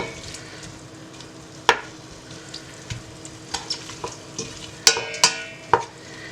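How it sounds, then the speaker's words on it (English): A spoon stirs cheese and leek soup in a pot, with scraping knocks against the metal and a few sharp clacks over a soft simmering hiss. "You can stir it a little bit until it's nice and even."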